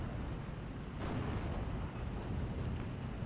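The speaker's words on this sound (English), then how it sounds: "Mortar fire coming down into the forest" Mortar rounds landing in a forest in the video game Steel Division 2, heard as a low, rumbling wash of distant explosions with a sharper burst near the one-second mark, steady and fairly loud throughout.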